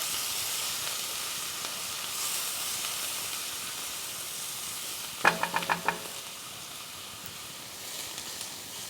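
Mirepoix vegetables sautéing in a pan, a broad continuous hiss of frying with a short burst of quick metallic taps midway, no talking.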